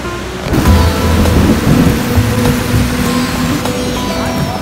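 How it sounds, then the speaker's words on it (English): Heavy rain pours down in a dense, continuous hiss, with a low rumble of thunder rolling underneath. "it's raining really really heavy outside."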